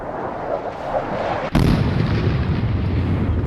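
A warship's gun fires in a naval combat game featuring a 1990s VLS-equipped Iowa battleship against a Russian Baltic fleet, one sudden loud blast after a steady low hum, followed by a long rumbling roar.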